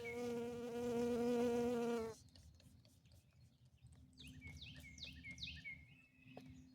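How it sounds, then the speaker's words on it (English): A bee buzzes loudly and close for about two seconds in a garden, then moves off. Faint birdsong chirps continue in the quiet outdoor background. "Go away, bee."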